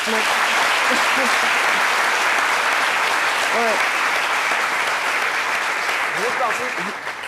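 Sustained applause from a sizable crowd, dense and steady throughout, with a few voices faintly calling out underneath.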